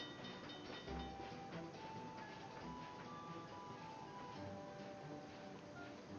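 Train from Zelda: Spirit Tracks rolling along and gradually slowing, a steady dense rumble with faint clattering and tonal hums, continuous and fairly close, with no talking.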